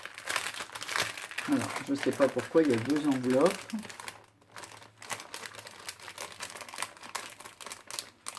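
Paper and envelopes rustle and crinkle while being unwrapped, including a plastic-coated envelope closed with butterfly washi tape, in close, irregular crackles that run alongside someone speaking French.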